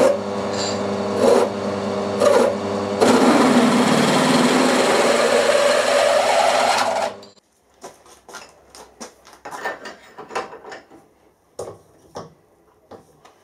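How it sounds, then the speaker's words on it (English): A milling machine with a noisy belt drills into a hole with a loud, steady grinding whine for several seconds, then stops, leaving scattered clicks and scraping handling noises. "get the drill cutting just nicely on the hole"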